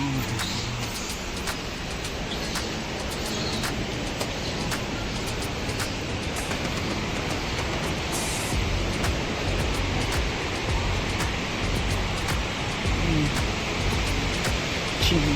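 The Thirathgarh waterfall pours in a steady, broad roar of falling water that holds evenly from start to finish, with no clear talk over it.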